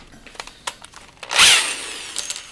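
Power drill boring into a powder horn on its curved surface, a short rising whir of the motor and bit biting in after some light handling clicks.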